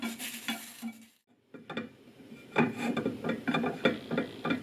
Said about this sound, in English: let's roast the chilies and garlic